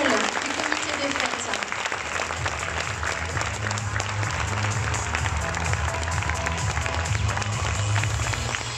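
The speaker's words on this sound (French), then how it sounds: "je vous demandais d'applaudir très fort Victor Massé ainsi que tous les bénévoles du comité des fêtes" Loud, sustained applause from a festival audience at a Miss Pays de la Baie 2020 pageant, steady clapping with crowd noise and some voices mixed in, running without a break.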